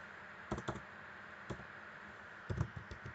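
Bursts of typing on a computer keyboard as a command is entered, quick clusters of key clicks separated by pauses, close and clear over a steady hum.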